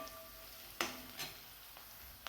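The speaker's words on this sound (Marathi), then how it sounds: "हळदी पावडर ही तेलामध्येच घालायची कारण छान कलर येतो" Turmeric powder hitting hot oil in a kadai produces a faint, steady sizzle, with a few sharp spatters and soft stirring clicks rising briefly above the low frying hiss.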